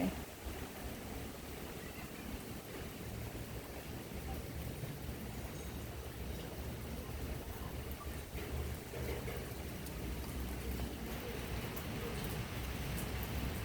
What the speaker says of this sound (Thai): ฟังเสียงฝน ดังสนั่นหวั่นไหว